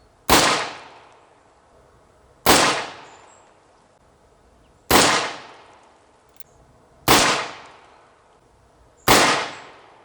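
An Uberti Single Action Army 1873 revolver fires five sharp, loud shots at a steady, unhurried pace, each crack trailing off into a short echo.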